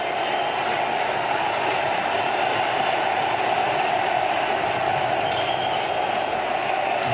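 A large crowd of spectators at the 2023 India v Australia cricket Test in Nagpur creates a continuous, even roar of murmur and chatter, heard from a distance with no distinct peaks.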